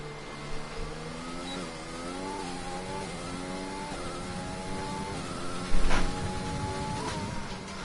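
Mercedes race car engine in a racing video game at the Hungary circuit, a high buzzing whine that climbs through gears in repeated rising sweeps, steady and fairly loud with a brief thump near the end.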